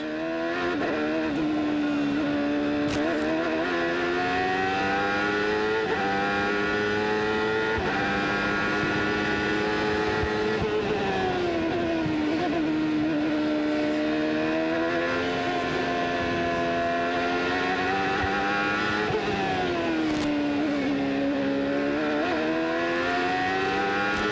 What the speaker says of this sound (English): If you listen to the engine, you can just see how smooth the driver has to be, Paul.